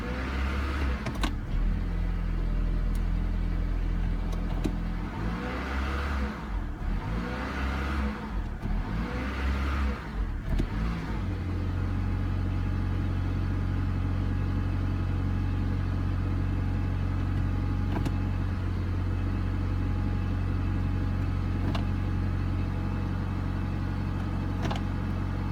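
Engine of a 2001 Honda Accord running while driving and shifting through gears, a steady close hum with a few surging rises and drops in revs early on, then an even drone, no talking.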